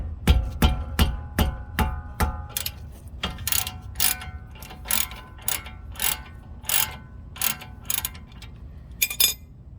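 Socket wrench ratcheting on a brake bolt of a Dodge Durango during a brake and rotor job, rapid crisp clicking bursts at first, then slower separated ratchet strokes in a regular rhythm, close and clear.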